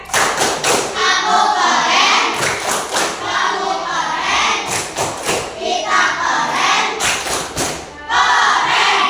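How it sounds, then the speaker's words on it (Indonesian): A classroom of young students claps a rhythmic cheer together for a classmate, with bursts of patterned clapping, thumps and children's voices calling out, loud and close. "Tepuk keren untuk Gali"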